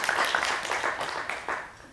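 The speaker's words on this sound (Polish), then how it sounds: "Proszę o brawa." Applause from an audience at a history lecture on pogroms of Jews, a dense wash of clapping with a few louder bursts that fades toward the end.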